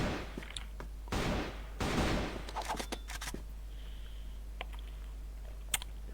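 AK rifle gunfire in a video game, several bursts of rapid automatic shots in the first half, followed by sparse sharper cracks and clicks, heard through a steady low hum.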